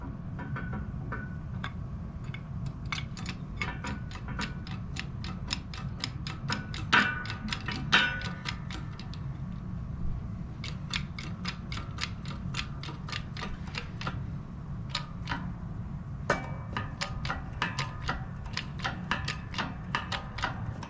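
A bearing is pressed onto a car differential, rapid repeated metallic clicks and ticks in bursts over a low steady mechanical hum, moderately close with no talking.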